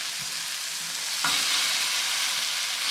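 Food sizzling in a pan at a cabin, a continuous loud hiss with a brief stir or clink partway through, no voices.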